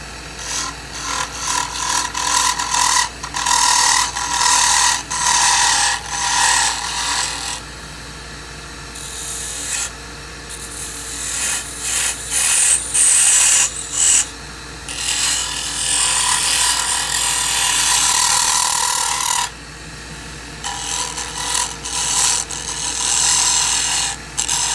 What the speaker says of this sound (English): then we'll cut our the O-ring grooves